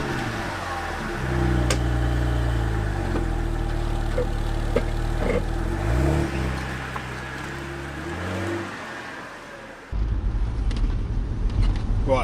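A 2007 BMW Z4 E85 roadster with an automatic gearbox drives on the road, its engine humming steadily and rising and falling through gear changes, with a louder surge near the end.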